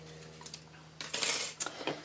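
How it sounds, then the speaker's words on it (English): Metal die-cutting plates for cardmaking set down on a work surface, a few close, sharp metallic clinks and clatters after a near-silent moment. "Get rid of the cutting plates."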